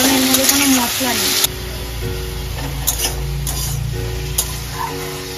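Food frying in a pan with turmeric and salt gives a steady, close sizzle with a few stirring clicks and scrapes. A voice is briefly heard near the start.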